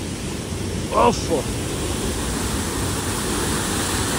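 Steady broadband rushing of Jhari Pani Falls in Mussoorie fills the whole clip, loud and constant, with a brief voice cutting through near the start.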